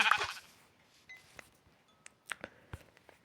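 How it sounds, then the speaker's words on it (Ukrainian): Sheep in Minecraft give a few short bleats, a loud one at the start followed by fainter sporadic calls over quiet ambience. "Тут, до речі, да, ще є різні варіанти вівці"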